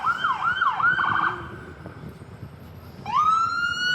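A hospital ambulance siren wails downtown, rising and falling in a yelping pattern, breaking off briefly, then starting up again with a long rising tone, moderately loud and some distance away over street noise.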